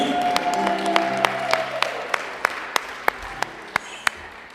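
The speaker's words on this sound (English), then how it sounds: "I'm gonna give you all a round of applause." Applause from a congregation at a Sunday service, a few claps fading into sparse, sharp individual claps spaced at a steady rhythm near the end, with a lingering musical tone under the start.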